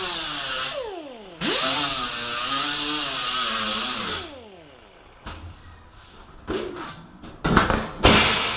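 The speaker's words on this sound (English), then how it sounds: "grind a little more" Grinding a painted panel with a power tool: a long, loud whining run with pitch sweeps, a brief drop, then a steady second pass, followed by several shorter bursts near the end.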